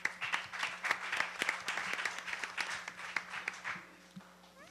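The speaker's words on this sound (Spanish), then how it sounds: "Le damos la palabra al licenciado Jesús Aranda, recibiéndolo con un aplauso, por favor." Applause from an audience welcoming a speaker at a judicial-branch tribute event, steady clapping lasting several seconds before tapering off near the end, with faint background voices.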